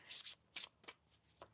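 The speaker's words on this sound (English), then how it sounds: "One more shuffle now." Tarot cards are shuffled in a few quick riffling bursts, close and crisp, separated by short quiet gaps, with no talking.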